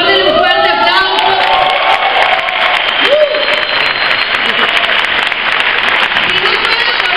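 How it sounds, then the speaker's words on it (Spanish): Loud, sustained audience applause at a talk, dense clapping with cheers and whoops from the crowd throughout and some shouting voices rising over it. "Por favor, denle un fuerte aplauso."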